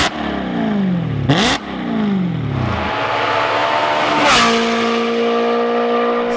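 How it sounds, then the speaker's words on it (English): A BMW E92 M3 with a full Valvetronic exhaust system revs hard, with rising and falling engine sweeps, sharp bursts between revs and a loud, close, raspy exhaust note with no talking. "Putting a full V2 Valvetronic full system on his E92 M3."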